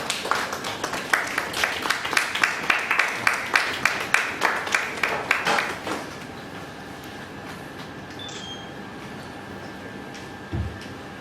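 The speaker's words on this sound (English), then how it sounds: "Please give a round of applause." Audience applause at a study circle meeting, a burst of rhythmic clapping from a room of members lasting about six seconds before fading, followed by quiet room tone.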